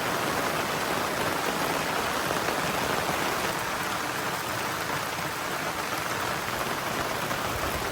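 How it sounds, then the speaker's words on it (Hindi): Heavy rain pours down steadily at a campsite during a thunderstorm, a dense, loud, continuous hiss of water with no break and no voices. "बाप रे, ये तो हेवी रेन।"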